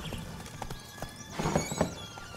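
Roach the horse in The Witcher 3 clip-clops along at a run, hoofbeats thudding in an uneven rhythm, with a brief whinny near the middle, moderately close against faint background.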